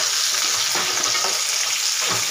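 Vegetables for kadhai paneer stir-fried in a hot kadhai, giving a steady, loud sizzle throughout with soft scraping stirs, close by and free of talk.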